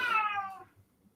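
A pet cat gives a single clear, close meow that tails off quickly, heard alone with no talking.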